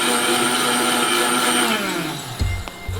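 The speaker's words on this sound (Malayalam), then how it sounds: "അങ്ങനെ ഇതാ തേങ്ങ അരച്ചെടുത്തു." A blender grinds coconut with a loud, steady whine that winds down to a stop, followed by a couple of low knocks as the jar settles.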